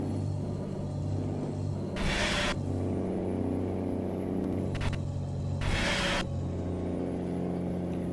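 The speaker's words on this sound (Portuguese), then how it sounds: "Fica até meio estranho nesse freio motor" Engine brake on a Mercedes-Benz Atego 2425 box truck in Euro Truck Simulator 2, a steady low drone with two loud bursts of hissing air release a few seconds apart.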